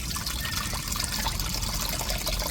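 Dissolved tamarind water being strained for a fish curry gives a steady trickling, pouring sound through the sieve, continuous and moderately close with no talking.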